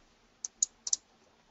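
A computer keyboard gives four quick, light key clicks close by in a quiet room, with no talking.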